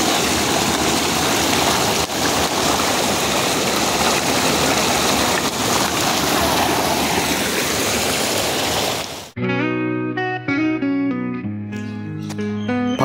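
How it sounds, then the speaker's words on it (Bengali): Bhatinda waterfall in Jharkhand pours down in stepped cascades, a loud, steady broadband rush of water for about nine seconds before music abruptly takes over. "যেরম ধাপে ধাপে জলগুলো পড়ছে সত্যিই অসাধারণ।"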